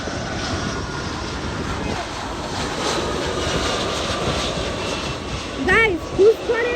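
A Delta Airlines airliner arriving from Atlanta, Georgia, roars steadily with a broad, sustained jet engine rush, and people talk briefly near the end.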